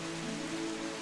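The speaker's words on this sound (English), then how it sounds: "A fairly heavy rain falls on the land while thunder breaks" Fairly heavy rain falling on open land under an overcast sky, a dense, even hiss with a faint low hum beneath.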